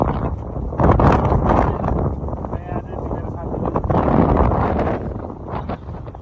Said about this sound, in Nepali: हावा चाहिँ खतरा चलिरहेको छ